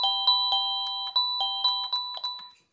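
A wireless doorbell chime in a house being renovated: a bright, clean two-tone electronic ringing repeated in quick, evenly spaced strikes, close and moderately loud, each note decaying briefly before the next, then stopping, with no talking.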